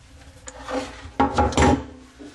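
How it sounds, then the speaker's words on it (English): Pliers gripping and tightening the slip nut on a bathroom sink drain pipe, giving a few close scraping, rubbing bursts with a sharper grind partway through. "Take a pair of pliers, and I gently tighten that nut, just one little eighth of a turn or so."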